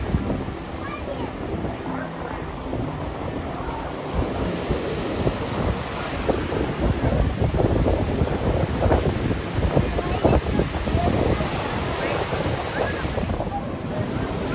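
Waves and wind at a Florida beach on a clear day: steady surf wash and heavy wind buffeting the microphone fill the scene, loud and close, with no clear breaks throughout.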